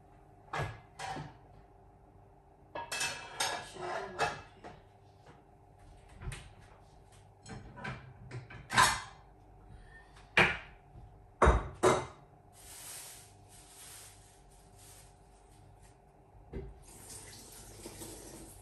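Dishes being washed at a kitchen sink, with running tap water in bursts, clinking plates and utensils and knocks against the basin, close and intermittent, ending in a longer stream of water.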